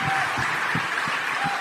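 An audience applauds to welcome a guest at a motivational talk, a continuous wash of many hands clapping at moderate volume, with a few low voice-like bursts beneath.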